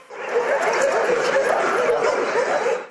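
Several dogs barking and yelping together in a continuous, overlapping din, fairly close and loud.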